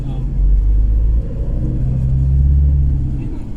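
A Toyota diesel vehicle with a remapped ECU is under acceleration. A loud, steady low engine rumble continues for the whole stretch, with a small dip in level partway through.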